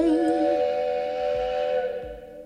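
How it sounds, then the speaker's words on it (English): A loud, sustained steam train whistle blows steadily with a rich chord of tones, fading slightly at the end, with no voices. "blow that whistle, baby, and let's get this train going down the tracks"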